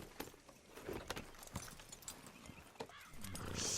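Horse hooves clip-clopping in a steady rhythm in Red Dead Redemption 2, close and fairly loud, with some jangling and a brief snort.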